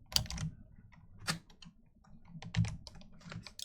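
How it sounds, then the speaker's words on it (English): Clicky keys on a computer keyboard with no shock mount, typed in quick irregular bursts of sharp taps, close and fairly quiet, with brief pauses between runs. "I can tell my keyboard's a little more noisy because there's no shock mount"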